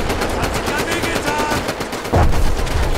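Sustained automatic gunfire in Medal of Honor: Above and Beyond, a rapid steady rattle of shots that grows louder and heavier near the end of the burst.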